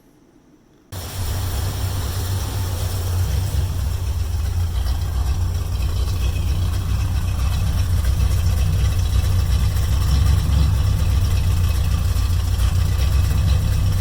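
A 1972 Mercury Comet engine with an idle-quality problem starts up and settles into a steady, continuous idle, a low rumbling drone that holds loud and close with no talk over it.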